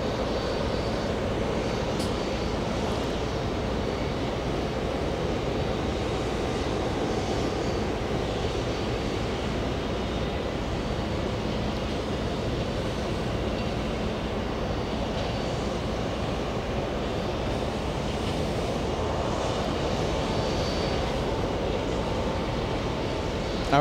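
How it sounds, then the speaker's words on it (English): A bright JetBlue airliner taxiing at JFK Airport gives a steady, moderately loud engine drone that holds evenly throughout, with broadband rumble and no talk. "Have a very bright JetBlue on the taxiway."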